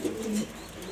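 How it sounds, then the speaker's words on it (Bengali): A pair of pigeons gives a brief low coo, nearby and moderately loud, with a faint background hiss. "এই যে দুইটা কবুতর"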